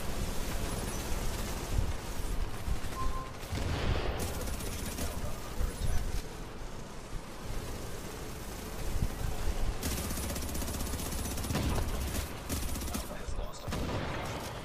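Continuous heavy gunfire from a high-recoil gun in The Division, rattling steadily for the whole stretch with overlapping bursts and dull impacts, loud and close, with a few quieter gaps.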